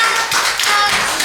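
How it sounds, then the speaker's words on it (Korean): A youth group at a Sunday church service claps together for a birthday: a short burst of steady, fairly loud hand clapping from a nearby room-sized crowd. "다시 한번 박수."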